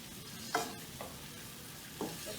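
Tomatoes being stir fried in a pan for a home-cooked Chinese tomato and egg dish, a steady soft sizzle broken by a few distinct scraping stirs of the spatula, close and moderately quiet with no talking.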